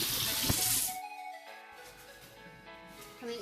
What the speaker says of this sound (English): Okay, so I'm gonna drain this water.